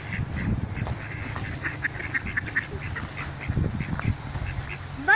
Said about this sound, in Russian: Серенькая уточка.